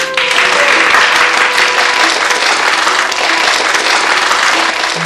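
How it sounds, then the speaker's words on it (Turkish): An audience in a staged comedy performance breaks into loud, sustained applause, dense clapping filling the room evenly from start to finish. "arkadaşımıza koca bir alkış alalım"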